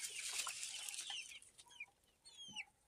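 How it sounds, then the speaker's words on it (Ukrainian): Small chicks peep and cluck in a busy chorus, with shrill chirps rising and falling over a hissy outdoor background. "А тут ось курчатка."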